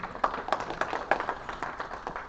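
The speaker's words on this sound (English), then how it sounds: "Give yourselves a round of applause." A small group at a Tea Party meeting claps, scattered sharp hand claps in an uneven rhythm, fairly close, with no talking over them.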